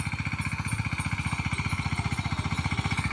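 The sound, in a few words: mini tractor working in field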